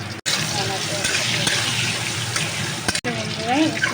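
Soybean chunks seasoned with salt and turmeric fry in hot oil with a loud, steady sizzle close by, broken by two brief cuts, and a voice speaks over the last second.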